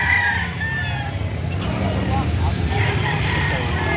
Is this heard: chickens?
yes